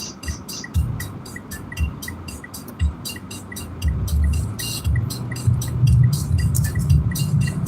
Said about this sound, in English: Car sounds kind of loud and bass